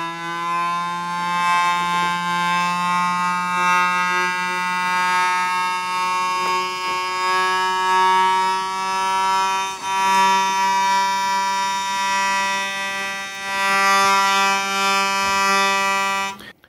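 Hurdy gurdy lower melody string, newly fitted, sounding a sustained G an octave below the upper string, a loud steady buzzing drone-like tone held continuously for the whole stretch with slight wavering, alone with no talk.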